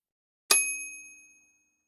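A single bright bell ding rung as a cue to repeat a phrase, striking sharply after a moment of silence and ringing out with a clear metallic tone that fades over about a second, alone.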